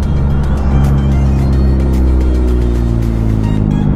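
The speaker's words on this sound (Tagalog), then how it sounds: "Oh, grabe ang traffic." Heavy road traffic heard from a motorbike, with a dense, continuous rumble of nearby engines and loud low-pitched drone that holds steady throughout, with no voices.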